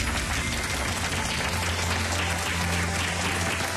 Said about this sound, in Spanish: Les agradezco ese aplauso